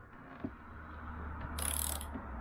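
A ratchet loosens a tight fork nut on a Husqvarna 125 WRE motorcycle, giving faint scattered clicks and a brief harsher mechanical burst in a quiet workshop.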